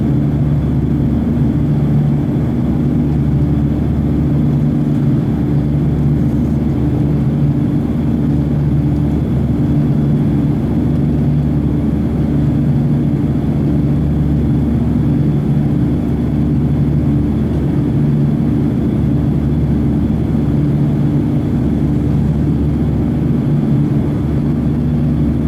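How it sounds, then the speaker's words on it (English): Inside a Lufthansa Airbus A340-300 airliner in flight, the engines give a steady, loud, low droning roar that continues without a break, with no voices. "It feels amazing to fly on this A340-300."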